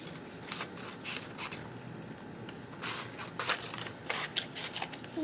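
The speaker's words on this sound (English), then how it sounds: "I think what I'll do is just cut a rectangle out of it" Scissors cut a scrap of light blue paper up close in a quiet room, with a quick series of soft crisp snips and rustles.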